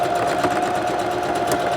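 A sewing machine stitches bikini fabric in a steady, close whirring drone with a constant hum, running alone without a break.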